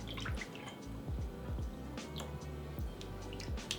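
A holiday cocktail is poured over a large ice cube in a glass, giving soft, close trickling and dripping with small splashes that come and go for a few seconds.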